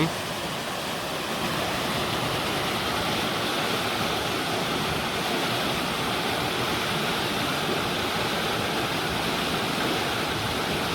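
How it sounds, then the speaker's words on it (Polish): Water of the Sztoła river rushes in a dense, steady roar, continuous and fairly close, with no other sounds standing out. "A tu się bije rzeka Sztoła."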